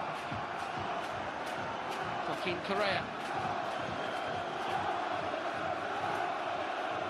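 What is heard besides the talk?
home crowd cheering at Leicester football match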